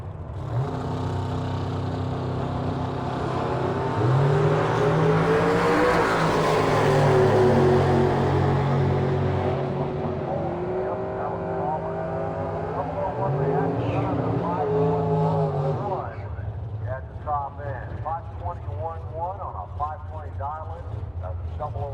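Drag racing cars at the Mopar Nationals roar loudly, building into a swelling howl that peaks and then fades, while an announcer talks over the noise.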